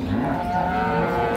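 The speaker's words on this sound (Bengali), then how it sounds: "এই যে এই গাভী এবং বাছুর" Holstein Friesian cow and her bull calf lowing at close range, a sustained, steady moo filling the whole moment without any talk.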